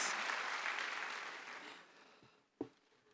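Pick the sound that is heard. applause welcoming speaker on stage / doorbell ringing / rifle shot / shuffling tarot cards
applause welcoming speaker on stage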